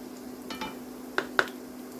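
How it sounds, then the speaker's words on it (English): Tuna patties frying in a pan until golden brown, a soft low sizzle beneath a few light clinks and scrapes of a utensil against the pan, two of them sharper and close together near the end. "fry it until it turns to golden brown"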